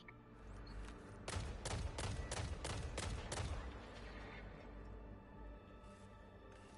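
Scout rifle fire in Destiny 2: a rapid string of about seven sharp, evenly spaced shots, fairly close and crisp, followed by a quieter tail of game ambience.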